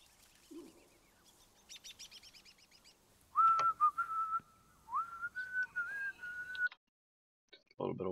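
Whistling in a Guardians of the Galaxy game session: a sustained, fairly loud melodic whistle with bending pitch runs for about three seconds after faint chirpy sounds, then cuts off before a short burst of noise at the end.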